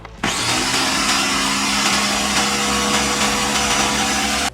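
An appliance whirs steadily and loudly as it mixes aquafaba butter with coconut and olive oil, a constant motorized drone that starts abruptly and runs for several seconds without talk.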